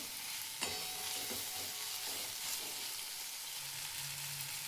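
Tomatoes frying in oil for rajma masala make a continuous close sizzle, with a faint clink or stir near the start and a low hum toward the end.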